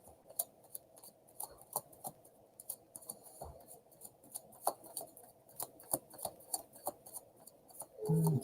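Tarot cards spill onto a surface and are gathered back up: a close run of crisp papery slaps, flicks and light clicks at an irregular rhythm, ending in a brief heavier rustle, with no one talking.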